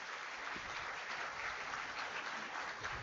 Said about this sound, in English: you all can please join in this welcome with a big round of applause